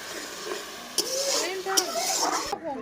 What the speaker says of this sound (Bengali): এদিকে খিচুড়ির জন্য সম্বরা তৈরি হচ্ছে